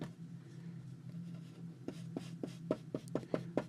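A brush dabbing Vintage Photo ink around the fabric edges of a journal cover, soft rustling followed by a quick series of close, crisp taps.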